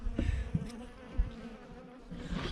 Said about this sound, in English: you walk over here and you've got crystal clear water with a whole bunch of bees